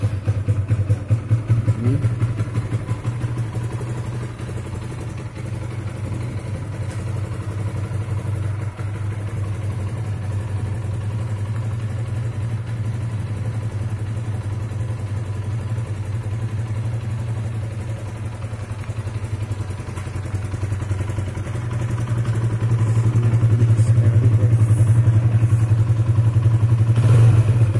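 A 2019 Kawasaki KLX BF SE motorcycle engine idles steadily up close with a low, even drone, rising a little louder toward the end.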